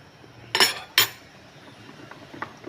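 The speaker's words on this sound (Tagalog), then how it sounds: "medyo halo-haluin natin para hindi siya magdikit-dikit" A spoon stirs bilo-bilo in a cooking pot, scraping and clinking against the metal in two sharp bursts, then a quieter stretch with faint scattered knocks.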